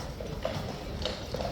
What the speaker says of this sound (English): So watch those horses go in